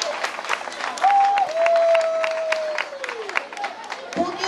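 Audience applauding members of the NGO MENJA at a cultural activities launch event, steady clapping from a crowd with a sustained tone gliding through and a speaker's voice briefly heard over it.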